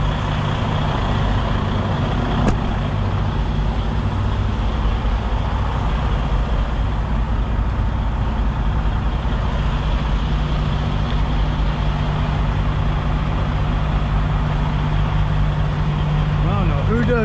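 A semi truck's diesel engine idling steadily while it warms up on a winter day, a constant loud low rumble close by with no break, plus one brief click early on.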